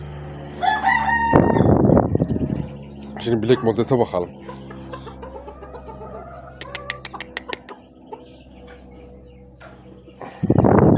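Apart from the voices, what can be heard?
rooster crowing and clucking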